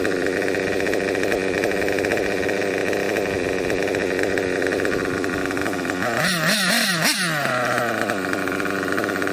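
A small high-pitched nitro RC engine runs steadily at a buzzing idle, then revs up sharply in a few quick bursts before settling back down.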